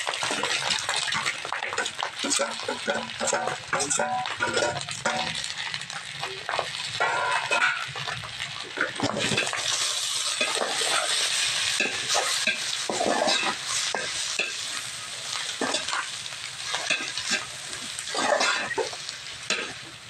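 Onions, green chillies and tomatoes fry in a pan for chicken fried rice, giving a steady, close sizzle over twenty seconds with frequent scraping and stirring knocks from a utensil, and no talking.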